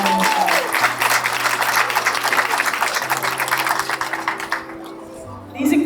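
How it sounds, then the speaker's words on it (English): A crowd at an outdoor Mother's Day breast cancer walk claps loudly for a survivor, a thick burst of applause that thins and fades near the end before a voice starts up. "Let's give her a round of applause."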